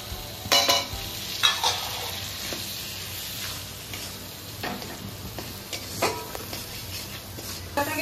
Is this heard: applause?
no